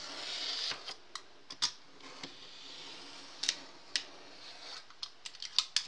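A craft knife slicing through a sheet of heat transfer vinyl to trim it to 12 inches, giving quiet, scattered scratchy ticks and short scraping cuts at close range with no talking.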